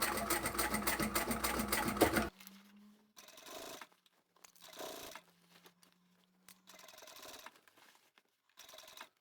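A sewing machine hems jeans over a thick seam, first a loud continuous run of stitching, then several short separate bursts of stitches with pauses between them and a faint motor hum.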